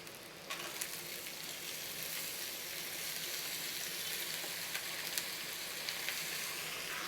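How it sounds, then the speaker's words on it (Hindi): Raw banana pieces fry in a home pan, a steady soft sizzle and crackle with occasional small pops, fairly faint and continuous with no voices. "अभी मैं केले को भी 5 मिनट फ्राई कर लेंगे।"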